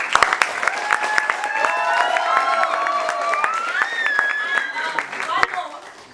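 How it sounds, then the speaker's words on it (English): Theatre audience at a youth theatre event clapping after a performance, with scattered sharp claps under loud sustained cheering and whoops that taper off near the end. "Could we have a loud round of applause for them?"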